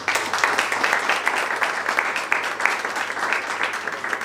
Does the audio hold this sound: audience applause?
yes